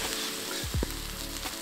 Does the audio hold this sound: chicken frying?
yes